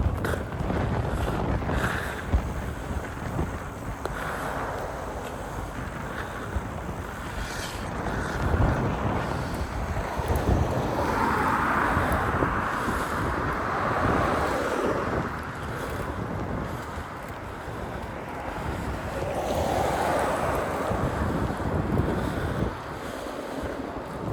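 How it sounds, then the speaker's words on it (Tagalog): Strong wind roars and buffets the microphone continuously, with a rushing, surf-like hiss rising and falling throughout. "Bugnaw nga hangin po."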